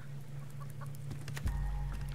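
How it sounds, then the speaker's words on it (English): Backyard chickens cluck in short, fairly faint bursts over a steady low hum, with a few soft taps and rustles nearby. "Check on the chickens."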